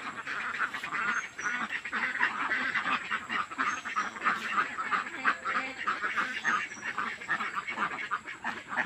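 A large flock of farm ducks crowding to go into their shed, quacking and honking continuously in a dense, overlapping chorus at close range.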